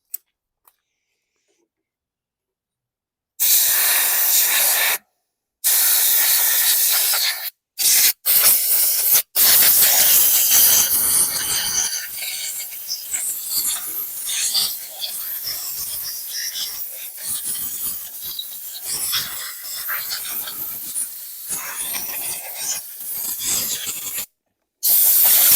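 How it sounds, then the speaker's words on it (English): A compressed air gun blasts shells out of a 2015 lawn mower in sharp, loud hissing bursts, short at first then one long sustained spray, broken by brief silent pauses, with no talking. "I'm going to grab my air gun and blast the shells out."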